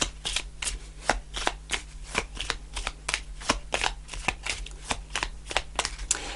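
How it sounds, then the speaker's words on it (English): Tarot cards being shuffled in quick, rhythmic riffles, a steady run of crisp flicking bursts close up with no talking. "A few more shuffles, and then if we don't get a card, there we are."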